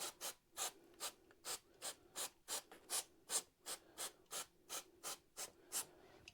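Rhythmic back-and-forth scrubbing of grime and crud from a motorcycle's front sprocket, about fifteen even rasping strokes in steady succession, close and fairly quiet with no talk.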